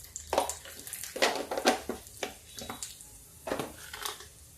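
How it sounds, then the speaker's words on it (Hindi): Cumin seeds crackle in a small amount of hot oil while a filling of turnip and bathua is cooked, giving sharp irregular pops and sizzling bursts spaced unevenly, moderately close and fairly soft. "देखिए जीरा तड़क रहा है।"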